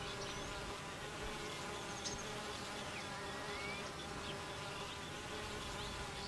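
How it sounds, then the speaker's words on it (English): Honeybees hum steadily inside the hive among the comb cells. The buzzing is a dense, continuous drone at a low, even level, with no speech. "After the pupae have changed into adult bees, they chew their way out of the cells and start working."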